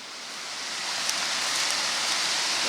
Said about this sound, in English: It's an old sluice dam coming out of a lake and into a river.